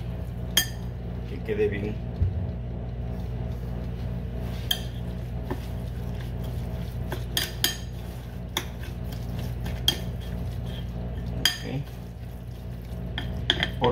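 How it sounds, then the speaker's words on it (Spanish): A spoon clinks and scrapes against a bowl while pineapple tart filling is mixed, with repeated sharp taps and a steady scraping rhythm close by as someone talks in Spanish. "y vamos a mezclar"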